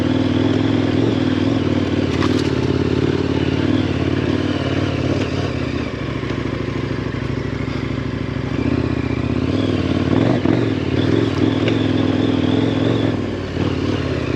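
A KTM 1090 Adventure motorcycle rides off-road with a steady, loud engine drone that holds throughout, close to the rider, with faint clatter and scrapes from rough ground.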